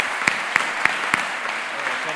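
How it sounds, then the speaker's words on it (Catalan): Audience at a local journalism awards ceremony applauding steadily, a dense even patter of many hands with a few sharp individual claps standing out, fairly close and continuous. "Un aplaudiment per aquests guerrers i guerreres."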